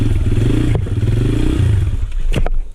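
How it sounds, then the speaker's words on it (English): A motorcycle engine runs loud and close with a rough, steady drone, then cuts out near the end as the rear brake is applied during wheelie practice. "Yeah, I hit the brake and it stalled the engine, but it didn't stall the engine until I let off the throttle."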